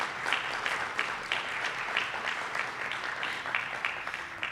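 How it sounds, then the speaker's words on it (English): An audience at an athletics hall of fame and alumni award ceremony gives a round of applause for the award winners, a dense, even wash of clapping in a hall, moderately distant and without talk. "Let's have one more round of applause for all of our award winners."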